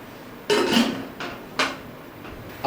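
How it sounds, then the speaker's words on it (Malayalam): A metal pressure cooker lid is closed over boiled drumsticks with salt, a few sharp clanks and knocks of metal on metal spaced apart, close and clear. "അപ്പോൾ നമുക്ക് ഇതൊന്ന് അടച്ചു വെച്ചിട്ട് നമുക്കൊന്ന് വേവിച്ചെടുക്കാം."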